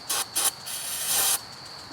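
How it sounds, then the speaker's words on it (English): Starting fluid sprayed into a rototiller engine to prime it: two quick hissing spurts, then a longer steady hiss, close and clear with no voices. "I'm going to cheat just a little bit by priming it with a little starting fluid"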